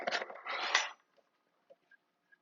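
Granola being stirred with cinnamon in a bowl: a short burst of rustling, clinking mixing for about a second, then near silence with a few faint taps and clicks.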